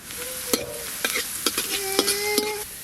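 Ginger and garlic stir-frying with carrots and beans for egg chicken chow mein on a clay stove: sharp, rhythmic scraping strokes of a spatula in the pan, about six of them, over a soft sizzle, with no talking.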